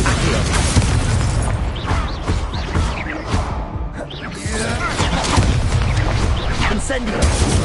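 Repeated booming blasts of the Confringo spell in Hogwarts Legacy on PS5, dense and loud, merging with crashes and bursts of combat effects while a voice calls out spells over the din.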